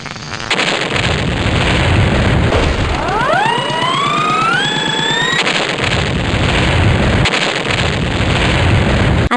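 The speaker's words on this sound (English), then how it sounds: "This time, we can launch up to 5 rockets each turn." Rockets launching in the 1994 computer game Maths Workshop, a loud continuous synthetic roar and rumble with a rising multi-tone whistling sweep in the middle, all played without any talk.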